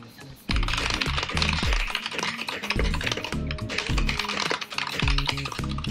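Rapid continuous typing on a Keychron C2 wired mechanical keyboard, with dense close clicky keystrokes after a brief quiet start and a couple of short pauses.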